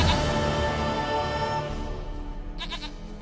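A goat in The Witcher 3 bleats once near the end, a short wavering cry that follows a stretch of low game ambience and music with no talking.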